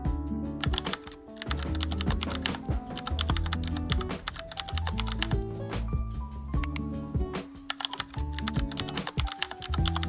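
Fingers type on a computer keyboard to log into a web hosting client area with an email and password. Rapid, continuous key clicks patter for about ten seconds over a steady tonal musical backing.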